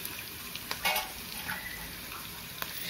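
Peanuts fry in hot oil with a steady, faint sizzling crackle and a few small pops and stirring sounds, with no voices.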